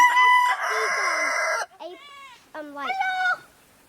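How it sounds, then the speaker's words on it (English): Adult chickens, a hen and a rooster, heard up close: a long loud rooster crow followed by shorter squawking clucks, with no people talking. "So that is the mama and the daddy of those baby chicks."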